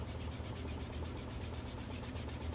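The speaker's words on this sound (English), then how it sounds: "I'm just gonna sand a little bit just to show you guys" Sandpaper rubs steadily over a curved plastic scale-model part, making a close, even rasping hiss with a quick back-and-forth stroke rhythm and no voices.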